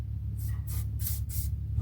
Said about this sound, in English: just spray a bit of juice on there, help that slide on a bit